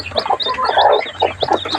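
Newly hatched native chicks and chickens cluck and peep close by, with busy overlapping calls and high chirps running throughout.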